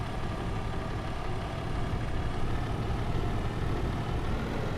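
An old farm tractor found abandoned in the woods runs in drive, its engine a continuous rough, low rumble at close range, steady throughout with no talk over it.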